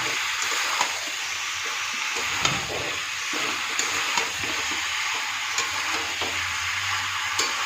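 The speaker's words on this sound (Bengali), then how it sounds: "এবার এর মধ্যে হলুদ গুঁড়ো লঙ্কা গুঁড়ো জিরে গুঁড়ো নুন সমস্ত কিছু মশলা দিয়ে দিলাম দিয়ে মশলাটাকে ভালো করে কষাবো" Turmeric, chilli and cumin powder with salt sautéed as a masala in a pan for a kohlrabi curry with small fish: a steady close sizzle with intermittent scraping stir clicks throughout, no talking.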